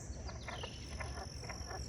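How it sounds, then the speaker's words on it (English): A dense chorus of frogs croaking steadily in rapid overlapping pulses, fairly faint and distant, with no talking. "You hear all the frogs?"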